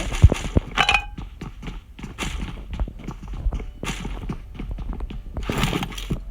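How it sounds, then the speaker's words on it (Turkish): Footsteps in the PUBG Mobile battle royale shooter, a rapid series of short thuds and clacks that keep coming throughout, fairly close and moderately loud, with no talk over them. "Şimdi bir ayak sesi."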